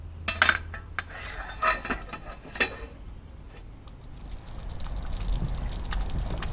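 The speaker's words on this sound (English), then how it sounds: "the coconut milk is bubbling away gloriously" A pot of beef rendang in a wood-fired oven, out in pouring rain, gives a few metallic clinks, then coconut milk settles into a steady, soft, low bubbling simmer with a wet hiss.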